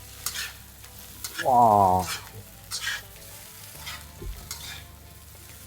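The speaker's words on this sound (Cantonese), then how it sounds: "跟住我哋揼翻少少味椒鹽啦，一路揼一路兜佢，" Spare ribs being stir-fried with fried garlic and pepper salt, a steady sizzle and scrape of tossing in the pan, broken by a short exclaimed voice and a few louder clatters.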